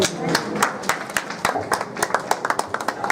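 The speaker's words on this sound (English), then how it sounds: "Another round of applause." Audience applause at a capacity enhancement program for public primary school head teachers, a steady patter of many hands clapping, fairly close and dense, with sharper individual claps standing out.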